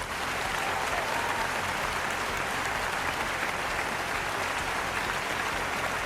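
Continuous applause from many people, a dense, even clapping wash held at a steady level from start to finish.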